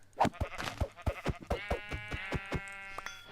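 Sheep bleating in the Minecraft video game, a quick series of short, clipped bleats in a rapid stuttering rhythm, followed by a longer drawn-out cry, all close and fairly clear.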